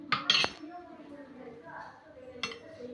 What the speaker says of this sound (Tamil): ஒரு பேன் வச்சுக்கலாம்